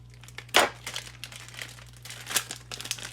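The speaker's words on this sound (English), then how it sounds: "Cut that open." A plastic pepperoni package being cut open, close crinkling and rustling with one sharp crackle near the start and more scattered crinkles after, over a faint low hum.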